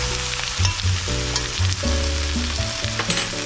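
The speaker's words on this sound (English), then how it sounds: "So I'm going to keep stirring." Veggies fry in a pan for collard lo mein, a steady loud sizzle broken by frequent scraping and clacking of a utensil as they are stirred, with no talking.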